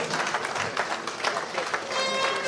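Audience applauding a state governor at a formal event, a thick, continuous rattle of many hands clapping at close range, steady and fairly loud throughout with a murmur of crowd beneath.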